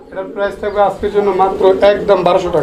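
Pigeons coo at a pigeon market in soft, repeated calls, mixed beneath close, continuous talk from people nearby.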